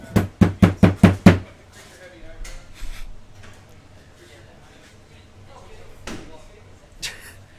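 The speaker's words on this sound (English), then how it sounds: "I gotta not hit the door so hard." Six hard, evenly spaced knocks on a door ring out loud and close in quick succession, followed by quieter clatter and people talking at a Magic: The Gathering Friday Night Magic game night in a hobby shop.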